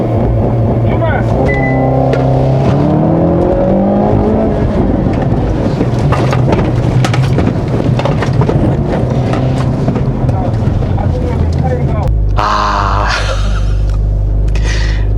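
A Hyundai Veloster N DCT launches on a circuit with launch control, its engine note rising and falling through gears, loud and close, with a person talking over it throughout.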